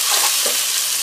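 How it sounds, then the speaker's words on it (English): Chopped garlic and ginger sizzle briskly in a hot pan, a bright close hiss with a faint scrape of stirring, loud and steady over about a second with no talking. "chopped garlic. Saute it for some time."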